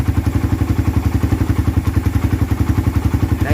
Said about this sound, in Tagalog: So yan yung tunog ng makina ni sir ngayon.